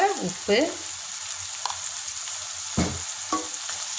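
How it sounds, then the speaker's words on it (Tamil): Crushed small shallots sauté in hot oil for a Kerala-style fish curry, giving a steady soft sizzle close by with occasional scraping stirs against the pan. "வெங்காயம் நல்லா வதங்கட்டும்"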